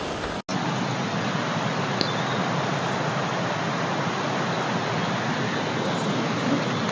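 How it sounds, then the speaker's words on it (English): The flooded Tarduf Burn in Abernethy pours as a waterfall under a bridge, a loud, continuous, even roaring rush of water that starts abruptly and holds steady throughout. "the rumble of the waterfalls going underneath the bridge"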